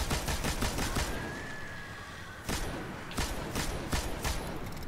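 Rapid bursts of gunfire in the video game Destiny: The Taken King, loud and close, with dense fast volleys, a short pause, then more spaced single shots.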